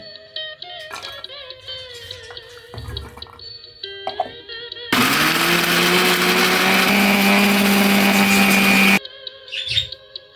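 A kitchen blender grinds onion, garlic, ginger, peanuts and a tomato into paste, a loud steady whir running for about four seconds between quieter handling noises.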